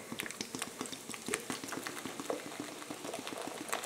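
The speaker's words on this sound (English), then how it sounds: "You're going to open it up, take that cap off," Pepsi soda poured into a pot, fizzing and crackling with dense bubbly pops and patter, fairly quiet and steady throughout.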